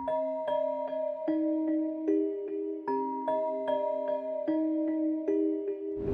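Melodic sample processed with Soothe, a ping-pong lo-fi delay and an EQ that trims highs and muddy lows: bell-like tonal notes in a slow repeating pattern, clean and sustained, playing alone with no voices.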